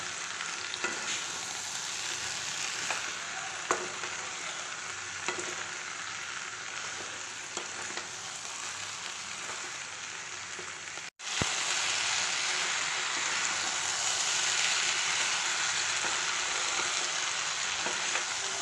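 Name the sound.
fried bitter gourd stirred into vegetables in pan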